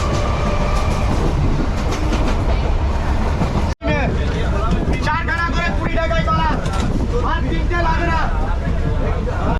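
A passenger train on the Kolkata to Bakkhali line, nearing Lakshmikantapur, rolls along with a loud, continuous rumble and rhythmic wheel clatter, briefly cut near the middle, with wind buffeting the microphone.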